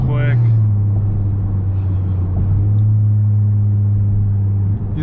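A tuned 2021 Honda Accord Sport 2.0T with a stage 3 tune accelerates hard, its loud droning engine note holding steady and close from inside the cabin.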